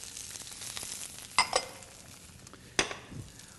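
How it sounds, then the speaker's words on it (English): Onions and mushrooms sautéing in olive oil in a hot pan for a potato frittata, a soft steady sizzle with a few sharp utensil clinks against the pan. "There's a pan on the heat. In goes a little bit of oil. This is nice olive oil."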